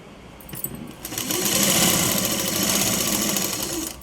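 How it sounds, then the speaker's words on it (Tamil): An electric sewing machine stitches a quarter-inch seam on a blouse, starting with a few light clicks and then running as a loud, steady, close-up whir. "இப்போ தையல் போடுறோம் பாருங்கள்."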